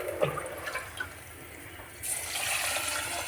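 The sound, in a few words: water being poured into fish curry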